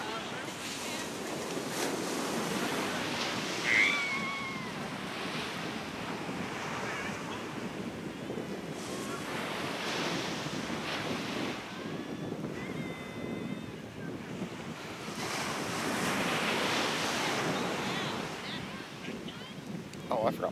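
Big ocean waves break on a shore in several broad, rushing swells, heavily mixed with blustery wind buffeting the microphone.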